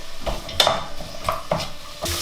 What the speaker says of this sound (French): On entend bien, ça rissole bien, ça sent bon.